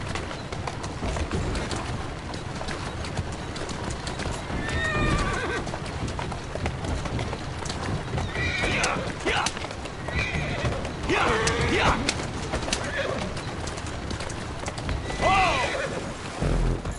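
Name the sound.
horse neighing and hooves in Assassin's Creed Syndicate video game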